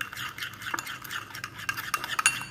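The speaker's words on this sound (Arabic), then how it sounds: "انا نخلطوا هاد المكونات جيدا" A spoon stirs a royal henna hair dye mixture in a bowl, a steady run of soft scraping and clinking strokes close by, with no voices.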